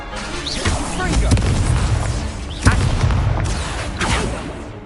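Confringo fire blast spell in Hogwarts Legacy: booming blasts and sharp pops rise over a rumbling game soundscape, with one clear crack in the middle and a voice calling spells.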